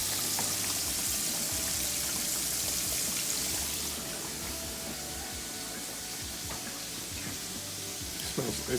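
Pork chops frying in a pan with rice cooking nearby, a continuous close sizzle and crackle that dips slightly midway, with kitchen clatter near the end.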